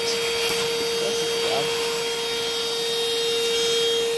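A Vacmaster shop vacuum runs steadily, sucking up dust with a loud continuous whine and airy roar, close and alone throughout.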